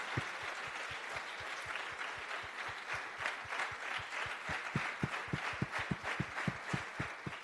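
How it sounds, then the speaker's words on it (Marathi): A church congregation claps hands together during a Sunday service, a dense, steady patter of many palms filling the room, growing into sharper, more pronounced rhythmic beats toward the end. "we clap our hands? टाळ्या वाजूया."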